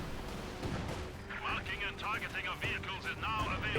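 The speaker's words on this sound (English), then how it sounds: "Land Mattress barrage coming on in." Land Mattress rocket artillery from the Company of Heroes 2 video game fires a barrage as a rapid, uneven string of whooshing launches and bursts heard under a caster's ongoing commentary.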